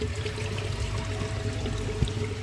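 Water pours steadily into a koi pond during a top-up, a constant close rushing wash with a faint low hum beneath, no voices.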